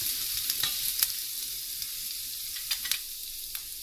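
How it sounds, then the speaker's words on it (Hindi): Finely chopped green chilies sautéing in a pan give a soft, steady sizzle with a few faint stirring scrapes, quiet and close. "इसको भी हल्का सा सौते कर लेंगे।"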